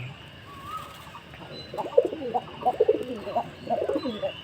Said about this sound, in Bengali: দেখেন, এই যে কবুতরগুলো গম দেওয়ার পর খেয়ে খেয়ে পানি খেতে যাচ্ছে, পানি খাচ্ছে।